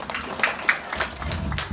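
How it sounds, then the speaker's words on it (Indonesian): An audience at a Balinese Prembon Penyalonarangan performance during a temple festival at Pura Yeh Lembu, Bungkulan, breaks into brief, moderately loud applause, a crowd wash of mixed claps with faint voices underneath. "Ya beri tepuk tangan dulu untuk sekegong tiang sarang sami kuy."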